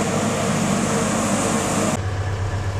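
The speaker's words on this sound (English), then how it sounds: "is that street cleaning machine." A street cleaning machine runs near a marina in Zaandam, making a loud, continuous mechanical whir and rushing noise. The sound drops in brightness partway through and the motor rumble continues, with no speech.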